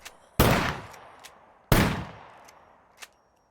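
Two loud, close shotgun blasts from the SCUM video game, each ringing off for about a second, with small mechanical clicks between and after them.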